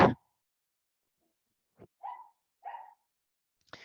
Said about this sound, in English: Sorry about all the dog barks.